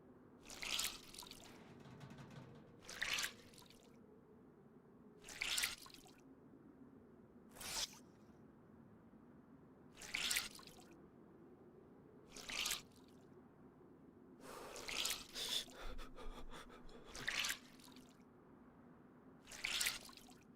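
Water dripping off a soaked character in DayZ, a series of distinct wet splats falling at a slow, roughly even pace of about one every two to three seconds, quiet and close over a faint low background hum.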